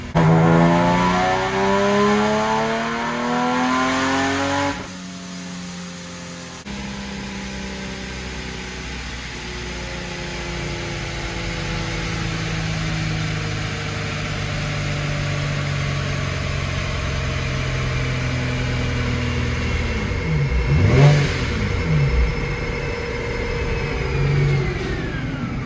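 A supercharged Nissan 370Z engine climbs through a long partial-throttle pull on a dyno. The pitch rises steadily, dips at a shift, then holds a loud sustained drone with a brief surge near the end. No one speaks.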